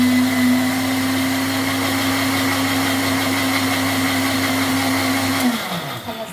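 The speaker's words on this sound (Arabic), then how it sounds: "وعلى الخلاط على طول، على الخلاط على طول اضرب ايه؟ السكر والبيض." An electric mixer beats eggs, sugar and vanilla for anise bakery biscuits, holding a steady, loud motor whine that winds down in pitch as it is switched off near the end.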